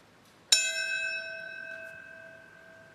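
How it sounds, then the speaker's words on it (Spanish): A memorial bell tolls once at the Ground Zero 9/11 tribute in New York, a single loud, bright strike whose metallic ring fades slowly over several seconds in a hushed setting. "Esta mañana se rindió tributo a las víctimas en la Zona Cero con campanadas y con un minuto de silencio."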